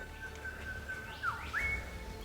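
A single bird whistles a steady tone, then gives a couple of quick rising and falling notes, moderately distant over a faint outdoor hum.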